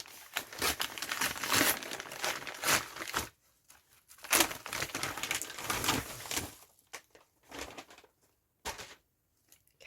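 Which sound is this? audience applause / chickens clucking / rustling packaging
rustling packaging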